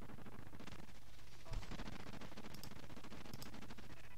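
Gunfire in the Warzone video game, a steady stream of rapid distant shots running under a continuous low rumble, faint and fairly constant throughout.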